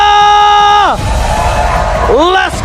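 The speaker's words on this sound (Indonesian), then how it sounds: "MPL Arena, mana tepuk tangannya?" Arena crowd at an MPL Indonesia esports match breaks into loud, sustained cheering, whooping and clapping, swelling between stretches of a sustained musical tone that rises and bends.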